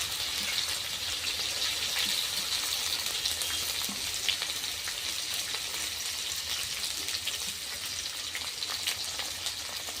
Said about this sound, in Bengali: আমার তেল গরম হয়ে গেছে, আমি দিয়ে দেব তেজপাতা, দিয়ে দেব সাদা জিরে, দিয়ে দেবো আমি পেঁয়াজ কুচি